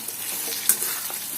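Asafoetida crackles in hot oil as a tempering for raw mango pulihora, a bright continuous sizzle with a brief sharp spatter midway, close and loud with no talk.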